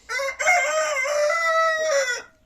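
One loud, near rooster crows on a free-range farm of ornamental chickens, a single sustained cock-a-doodle-doo lasting about two seconds and heard alone.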